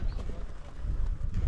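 Horse hooves clip-clop on a hard surface nearby in a Russian town, a quick uneven clatter over background noise with voices faintly underneath.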